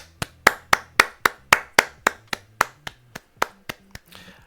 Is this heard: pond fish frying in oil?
no